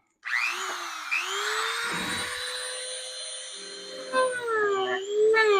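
A Dremel rotary tool whines at high pitch as it grinds into a battery holder, the tone sliding and dipping under load and then rising again, running steadily, close and loud throughout.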